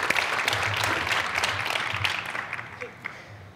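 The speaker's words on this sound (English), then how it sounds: "Big round of applause" A keynote audience breaks into a round of applause, steady, moderately loud clapping from many hands that tapers off over a few seconds.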